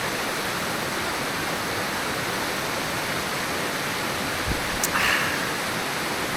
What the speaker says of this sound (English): I'm at this lovely little waterfall.